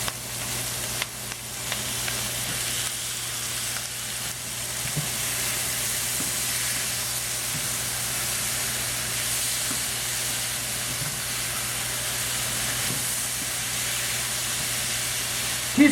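Beef and green beans stir fry with oyster sauce, sizzling in a hot pan as a continuous loud, bright hiss with faint scattered stirring clicks beneath, steady and close throughout.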